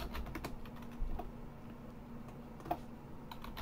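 Fingers tap on a computer keyboard during a game session, soft scattered clicks with a few sharper key strikes, close and fairly quiet over a low steady hum.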